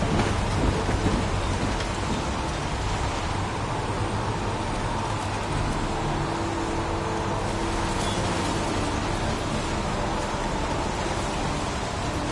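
Steady heavy rain with low rolling thunder from the video game Heavy Rain, a dense continuous wash of falling water and rumble filling the whole stretch with no voices.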